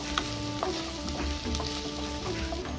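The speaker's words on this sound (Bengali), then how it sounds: "এটা আমি ভেজে রাখা আলুটা দিয়ে দেব দিয়ে ভালোভাবে নেড়ে নেব" Fried potatoes stirred into a frying parshe fish curry: a strong, close sizzle with repeated scrapes and knocks of a spoon against the pan over a few seconds, no voices.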